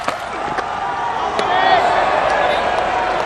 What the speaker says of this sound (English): Well, it stirred the crowd.